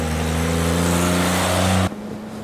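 An old front-wheel-drive Daihatsu on a rally stage, engine buzzing loud and close at steady high revs, then abruptly cut off as the sound drops away.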